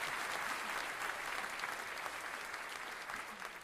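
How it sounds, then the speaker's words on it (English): An applause sound effect played by a game master: a dense, sustained crowd clapping that stays loud and even throughout, with no talking over it. "The game master played an applause sound effect"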